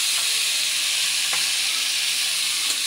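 Chicken pieces sauté in a hot pan for tinola, sizzling loudly and steadily with a bright continuous hiss, the odd clink of stirring breaking through.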